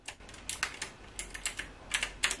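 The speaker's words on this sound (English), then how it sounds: "Besides the obvious keyboard click, there is just one small type of a click that gives a little of an accent of a typewriter" Crisp, rapid key clicks from a typewriter-style Bluetooth keyboard, typed close by in an irregular rhythm of about a dozen distinct strokes with no voices.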